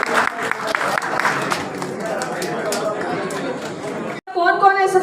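A crowd claps and chatters for the top five contestants at a cooking contest event. The applause mixes with voices and crowd noise, then cuts briefly before a voice speaks clearly over the fading noise.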